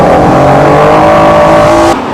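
Loud, high-revving race car engines, including a Mitsubishi Lancer and a Mazda RX-8 in an endurance race, roar continuously at close range, a sustained whining drone that cuts off abruptly near the end.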